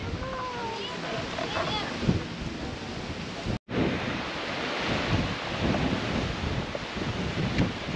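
Strong wind buffets the microphone in a loud, continuous roar with gusty surges, broken by a momentary cutout midway, in the Philippine countryside.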